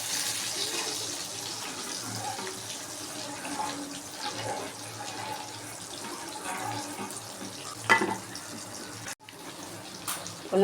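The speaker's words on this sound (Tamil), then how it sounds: "நான் இன்னும் கொஞ்சம் தண்ணி ஊற்றிக்கிறேன்" Water runs and splashes steadily into a cooking pot of sardine curry, a continuous gentle pour with faint clatter near the end.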